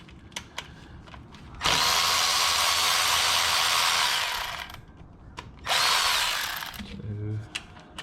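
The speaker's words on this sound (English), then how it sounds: "So let's take off these screws first." A power drill or driver backs screws out of the clutch cover on a Triumph Tiger motorcycle during a clutch replacement, with two loud whirring bursts, one long and one shorter, plus small clicks and taps between them.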